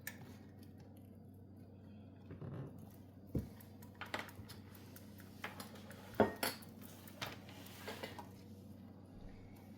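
A utensil scrapes and clinks against a pan while stirring the Dalgona sugar mixture, faint irregular metallic taps over a low background hum.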